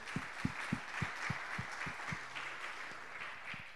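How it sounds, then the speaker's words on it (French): Audience applause at a French-language conference talk, with a few sharper, rhythmic claps standing out at first, then settling into steady moderate clapping from a crowd. "On va l'applaudir un petit peu quand même."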